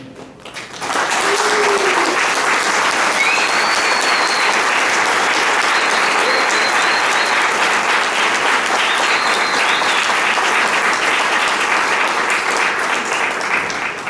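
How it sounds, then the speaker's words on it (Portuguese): An audience bursts into loud, sustained applause at the closing panel of a teachers' conference, the dense clapping rising abruptly after a second and holding steady to the end, with faint whoops and voices mixed in. "Aplaudidos."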